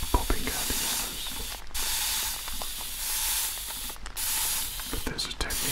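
A spray bottle spritzes right up close in an ASMR session, with long continuous hissing bursts broken by brief gaps and small clicking trigger pulls, with no voices.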